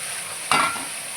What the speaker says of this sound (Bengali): আলুগুলো ভাজা হবে।